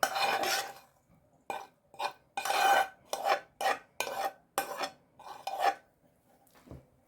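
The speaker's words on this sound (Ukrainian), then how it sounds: "І я все сюди викидаю в мисочку до фаршу" Spoon scraping fried eggplant into a bowl of minced meat for eggplant cutlets, a run of short rasping scrapes close up with brief pauses between strokes.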